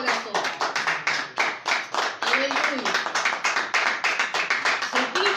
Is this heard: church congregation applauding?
yes